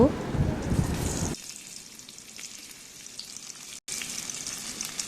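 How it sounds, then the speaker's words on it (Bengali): Chopped garlic and onion frying in oil in a wok, a dense crackling sizzle that is loud at first, then settles into a softer, steady hiss with light stirring, with a brief break near the end. "এগুলোকে ভালো মতো একটু ভেজে নিব।"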